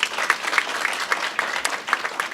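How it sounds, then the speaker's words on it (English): A conference audience at a university language policy event applauds the organizing team, a crowd clapping with uneven bursts of louder claps over the steady patter. "Can you please give them a round of applause?"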